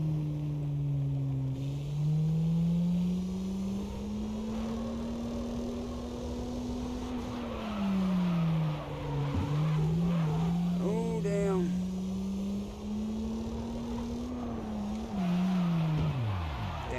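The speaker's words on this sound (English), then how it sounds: "I don't know why I keep trying to slide this thing when I know it's stuck." Stock Devil Z in the racing game Wangan Midnight, engine droning and shifting pitch with a brief tire squeal partway through as the car slides, under intermittent talk.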